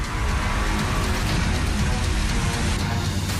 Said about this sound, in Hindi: मॉनसून के शुरू होते ही बारिश का जोर